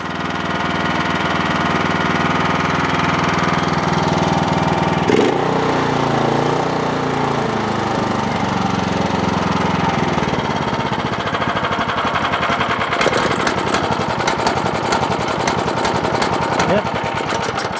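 A rusty, neglected Ariens Pro snowblower engine runs steadily on choke, a loud, close, continuous chugging drone that holds throughout with a brief shift partway, while someone talks over it.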